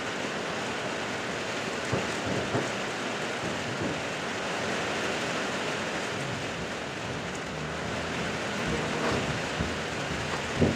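Steady rain falling outdoors at an air-conditioner installation site, a dense, even hiss of drops on surfaces that holds constant throughout, with no talking.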